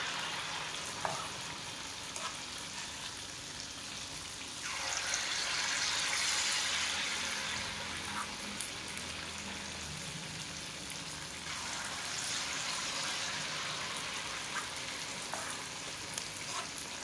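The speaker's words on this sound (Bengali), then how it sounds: "তেলটা গরম হয়ে গেলে এরপর আমি চামচে চামচে করে সুজির ওই ব্যাটারটা দিতে থাকবো।" Spoonfuls of semolina (suji) batter fry in hot oil in an iron wok, giving a continuous crackling sizzle that swells louder twice and then settles. No one talks.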